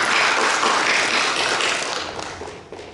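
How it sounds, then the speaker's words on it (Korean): A church congregation claps to welcome a visiting missionary at a Sunday service, a dense steady burst of applause that stays loud and then gradually thins toward the end. "선교사님 잠깐 일어나 주시고 박수로 환영하겠습니다"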